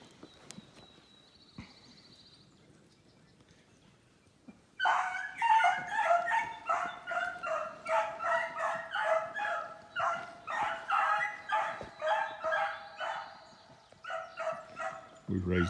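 Beagles bay and yelp on a rabbit hunt at Iron Mountain, a rapid string of loud, overlapping cries that bursts in after a few quiet seconds and carries on steadily to the end.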